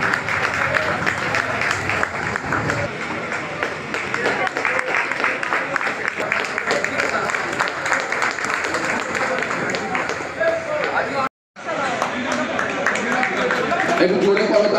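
An audience claps at a large blood donation festival in Sonarpur held in memory of the 21 July martyrs, sustained crowd applause running throughout, with a brief cut near the end.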